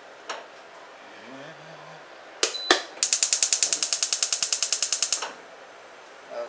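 A stove burner on a kitchen cooktop is turned on to heat a pot for garlic and onion claypot rice: a couple of knocks from the knob, then a rapid, even run of sharp igniter clicks lasting about two seconds, close and clear.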